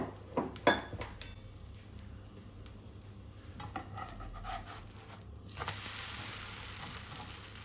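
Bread dough frying in oil in a pan over medium heat gives a soft, steady sizzle, with a few clinks and scrapes of a utensil against the pan near the start.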